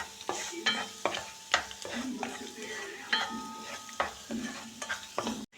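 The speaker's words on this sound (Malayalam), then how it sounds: "നന്നായി വഴറ്റി വരട്ടെ" Onions sautéing in a pan, with a spatula repeatedly scraping and clinking against the metal in an irregular rhythm over a soft, steady sizzle. The sound is close and clear.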